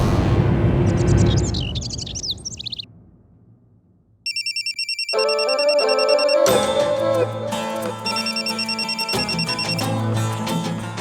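A telephone rings in an electronic tone that repeats in short bursts over a musical background, coming in after a sweeping orchestral swell and a brief quiet gap.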